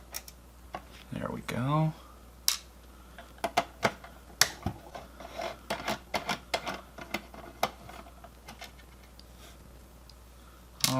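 Tiny Phillips screws come out of an Xbox under a screwdriver, giving irregular small clicks and ticks up close, with a short voice and a few louder knocks.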